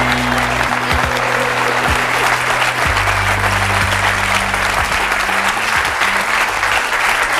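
A television studio audience applauds a guest being welcomed onto the set, loud, sustained clapping filling the room without a break, with a steady low musical hum running underneath.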